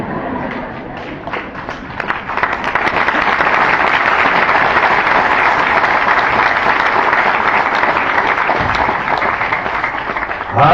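Applause from an audience at a spiritual gathering in an ashram in Delhi: dense, sustained clapping that swells after a couple of seconds and holds steady and loud for the rest of the stretch.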